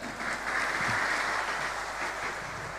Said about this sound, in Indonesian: Bangun, berikan tepuk tangan.